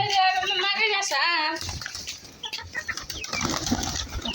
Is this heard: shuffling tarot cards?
no